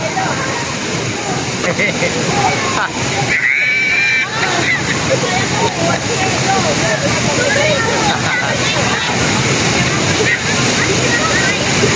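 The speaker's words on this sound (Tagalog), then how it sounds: "Taytay Falls dito sa Laguna." Taytay Falls in Majayjay, Laguna roars as a steady, loud, continuous rush of falling water, with voices of bathers and talk mixed faintly under the noise.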